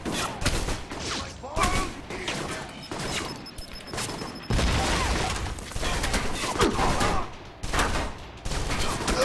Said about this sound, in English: you get into a prolonged firefight like this